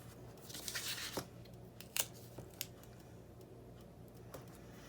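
Adhesive tape pulled off a roll and torn while crafting elastic-closure Post-it note holders, giving faint ripping and tearing crackles with a few sharp snaps, quiet and close with no talking.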